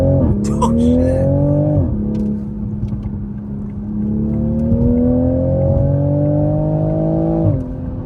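Toyota Supra accelerating hard with traction control off, its engine note climbing steadily through the gears with two clear shift drops, loud and close from inside the cabin while people talk and exclaim.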